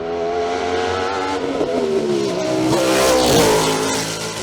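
BMW M3 race car on a mountain hill climb course, its engine revving hard and rising in pitch as it accelerates, loud and close, with no voices.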